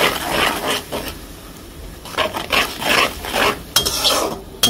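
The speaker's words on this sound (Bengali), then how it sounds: "এটাকে ভালোভাবে কষাই নেব।" Lentils being stirred and sautéed in a pot with chili powder and salt for a moong dal with carp head, giving repeated scraping and clinking strokes of a utensil against the pot, fairly close, with no talk.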